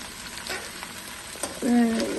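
Okra sizzling and crackling in a hot pan, a steady frying hiss with a brief louder clatter of stirring near the end.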